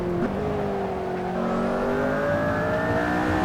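McLaren P1 engine in the Assetto Corsa racing game, a steady high-pitched drone that swells as the car carries speed through a corner on a modded track, loud and continuous with no talk.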